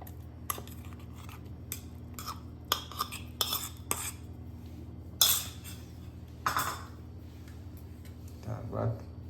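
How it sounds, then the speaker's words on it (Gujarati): Two chopped mangoes go into a mixer jar for mango lassi, with sparse clinks and light knocks of a spoon and fruit against the jar under a voice talking. "ત્યારબાદ આપણે એમાં 2 કેરી સમારેલી છે એને એડ કરીશું."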